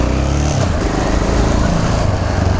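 A 13-year-old Yamaha XT motorcycle engine idles loudly and steadily with a rough, throbbing low rumble, close by and uninterrupted.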